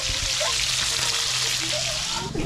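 Loud, steady sizzling of food frying in hot oil, close up, with a constant crackling hiss throughout.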